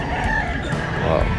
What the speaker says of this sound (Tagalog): yung mga manok, marami